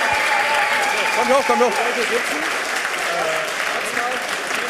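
An audience at a hacker conference event applauds the volunteer team. The dense clapping rises and swells as a man calls out over it, then thins toward the end.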